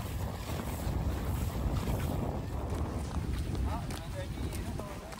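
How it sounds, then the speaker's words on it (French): Steady wind blowing at the seashore on the St. Lawrence near Rimouski and Saint-Fabien, a continuous broad rush with buffeting against the microphone and faint water movement beneath, constant and close throughout. "Je laisse un peu le bruit des vents parce que ça fait partie du charme."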